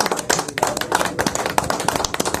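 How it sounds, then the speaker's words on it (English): An audience claps at a live anniversary event, a dense patter of hand claps with irregular sharp taps, moderately loud and close, with little talk. "Put your hands together for him."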